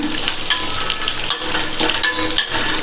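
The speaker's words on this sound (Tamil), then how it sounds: "இந்த தேங்காய் துண்டுகள் வந்து நல்ல கலர் மாறுற அளவுக்கு நெய்யிலேயே வறுத்துக்கலாம்" Loud, steady sizzling of coconut pieces frying in hot ghee, crackling continuously up close with occasional stirring.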